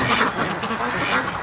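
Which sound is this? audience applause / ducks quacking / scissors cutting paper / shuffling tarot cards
ducks quacking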